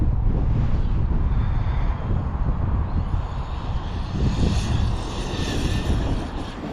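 An Arrma Kraton 8S RC car runs at full throttle on an off-road speed run, its motor a loud, sustained whine over heavy wind noise, holding steady then easing slightly.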